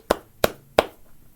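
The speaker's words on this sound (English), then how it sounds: "That's me applauding." One person clapping three times at an even pace, sharp close claps with short gaps and then quiet.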